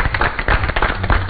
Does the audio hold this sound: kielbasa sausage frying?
no